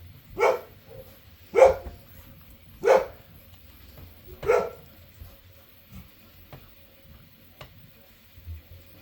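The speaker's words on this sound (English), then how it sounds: "Oh, sorry about the dogs." Several dogs bark indoors somewhere off to the side, four separate barks at roughly even intervals and then quiet, heard alone against a faint background.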